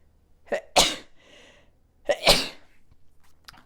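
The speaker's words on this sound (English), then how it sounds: "Now I'm gonna sneeze." Two loud sneezes, each with a quick breathy intake before the burst, separated by a short pause and followed by a small sniff.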